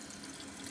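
Faint, steady stream of water running from a spigot into a DIY toilet-tank holder for urinal cakes, a soft continuous close-up trickle with no distinct drops.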